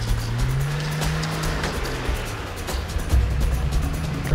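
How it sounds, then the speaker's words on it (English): A 4WD vehicle drives on an off-road track, its engine rising and falling in pitch, with rough knocks and bumps over the terrain and a surge in engine noise near the end. "Epic drive, Breno."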